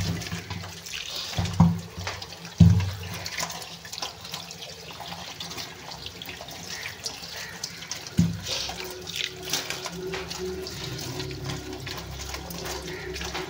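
Water runs from a kitchen tap in a home while pots are washed, a continuous splashing stream with occasional clanks of metal pots, fairly close and loud, with no talk over it.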